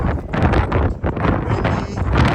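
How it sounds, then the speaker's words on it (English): Strong wind blasts across the microphone on an ocean pier, a loud continuous rumbling buffet with gusty swells and no clear voices. "Windy."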